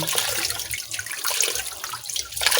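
Water pours steadily into a glass for a drink, a continuous splashing trickle heard up close with no talking.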